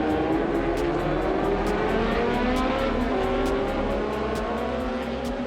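Euro F2 racing cars at the Spa-Classic race at Spa, engines droning steadily with a rising and falling pitch as several cars run continuously in the distance, alone without talk.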